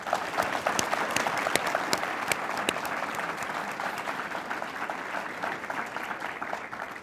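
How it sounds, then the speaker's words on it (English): A crowd claps steadily for several seconds, the applause moderately loud at first and slowly tapering off, with no voices over it. "Please give them a round of applause."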